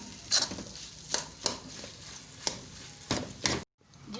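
A spoon stirring thick aloe vera halwa in a pan over medium heat, scraping strokes recurring roughly every half second to second, soft and close, with a brief silence near the end.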